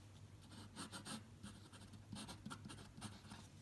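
A Gama Supreme fountain pen with a steel nib scratches across paper in short, quick strokes, a soft close rustling scrawl in rhythmic bursts with no one talking.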